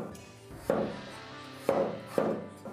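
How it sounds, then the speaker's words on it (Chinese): A knife slicing through garlic cloves on a cutting board, three sharp chops spaced about a second apart, close and fairly quiet with no talking. "再准备几瓣大蒜， 先切片"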